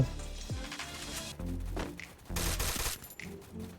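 Gunshots ring out outside in the Free Fire video game, a series of sharp shots and short bursts, moderately loud, coming in clusters with brief pauses between them.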